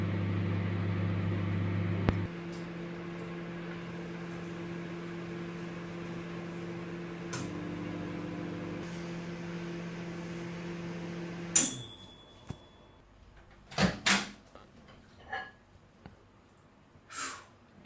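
A microwave oven runs with a steady low hum and drone for about eleven seconds, then stops, followed by several short clicks and knocks from the door and handling.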